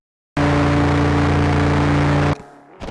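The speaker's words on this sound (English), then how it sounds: "unless you give the engine enough revs, it will be off cam and you won't be able to bring in the power" A Formula One car engine held at high revs on the grid at a race start in a PlayStation F1 game, a loud steady buzzing drone that cuts off abruptly, followed by a lower idle and quiet rumble.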